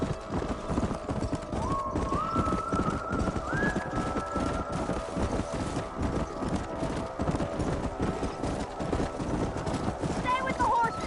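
Steady clip-clop of several horses trotting at a brisk rhythm in the video game Red Dead Redemption, with brief whistling tones and a faint whinny near the end.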